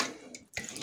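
Cold water runs from a bathroom tap into a sink in a brief splashy rush, cut by a short gap before the flow resumes, close and moderately loud.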